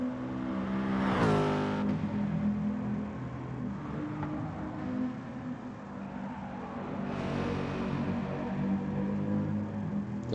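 A racing-game car with a big naturally aspirated engine mounted up front, its engine note rising in a sharp rev early on, then holding a steady droning drive with another swell near the end, loud and close, without talk.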